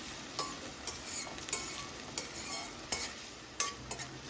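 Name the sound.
onions sautéing in pan for paneer bhurji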